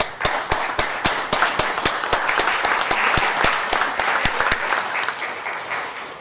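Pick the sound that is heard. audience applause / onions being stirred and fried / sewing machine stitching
audience applause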